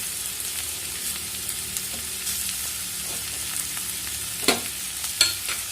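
Tapioca bonda filling sautéing in a pan on low heat gives a steady soft sizzle throughout, with a few spatula scrapes and taps against the pan near the end, no talking.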